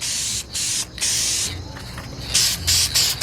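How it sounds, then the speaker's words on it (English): Aerosol spray paint hisses in several bursts of differing length over rust on a car door and fender, loud and close, with short pauses between passes. "Spray over everything that's in the way."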